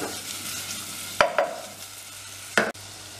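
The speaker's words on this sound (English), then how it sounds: "We're just sauteing this." Butter, spring onions and mushrooms being sauteed in a pan for a beef and risotto dish, with a steady low sizzle broken by a few sharp utensil scrapes and knocks against the pan, close by and moderately loud.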